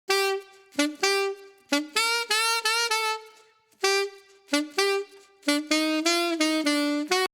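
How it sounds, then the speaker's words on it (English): A solo saxophone plays a lively phrase of short and sustained notes with brief pauses, bright and close, unaccompanied. "we have a saxophone with Filterverse off."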